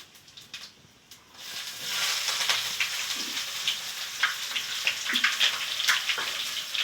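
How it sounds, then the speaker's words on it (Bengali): Chopped onion hits hot oil already seasoned with a dried red chilli and a bay leaf, sending up a steady broadband sizzle after a quieter first second, with small crackles and stirring scrapes throughout. "এবারে দিচ্ছি পেঁয়াজ কুচি।"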